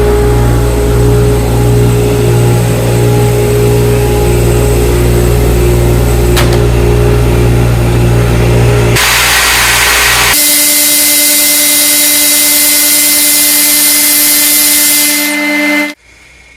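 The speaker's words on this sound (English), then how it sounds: "A cut like this with an MDF typically generates a lot of dust" Table saw slicing through MDF with a Harbor Freight dust collector running in a garage workshop, a loud steady machine roar with shifting hum that changes character midway and cuts off abruptly at the end; no talking.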